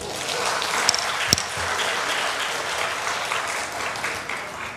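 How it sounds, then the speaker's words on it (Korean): A Sunday worship congregation claps steadily and fairly loudly, with a couple of sharp louder claps standing out early on. "박수 주세요"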